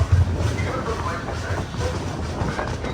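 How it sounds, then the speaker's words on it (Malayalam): Rumbling and rhythmic clatter of the Venad Express at Chengannur railway station in Kerala, steady and moderately loud for a few seconds with faint voices beneath. "ചെങ്ങന്നൂർ റെയിൽവേ സ്റ്റേഷനിൽ നമ്മുടെ ട്രെയിൻ എത്തിയിരിക്കുകയാണ്"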